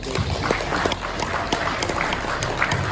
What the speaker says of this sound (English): we're going to give a nice round of applause for Harold.